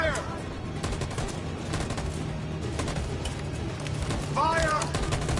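A crackling gunfire volley from the video game Detroit: Become Human during the escape from Jericho, with sustained dense shots throughout and brief shouted voices at the start and near the end.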